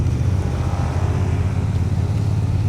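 A Royal Enfield Bear 650 motorcycle engine runs at a steady, close, continuous rumble with no voices over it.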